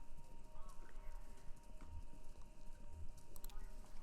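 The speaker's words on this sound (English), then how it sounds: "Sounds like horses. Horses running? A race?" Galloping horses playing over a radio station in Kentucky Route Zero, rhythmic hoofbeats with a low drumming thud and faint crowd-like background, steady and moderately loud.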